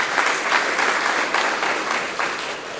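Hearty audience applause at a spoken talk, a dense burst of clapping that swells in waves and tapers slightly toward the end, without speech over it.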